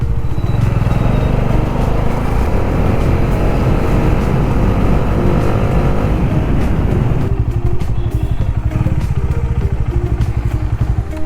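A TVS Apache RR 310 motorcycle is ridden, its engine droning loudly and steadily throughout with close rumble and wind buffeting, and the note shifting slightly partway through.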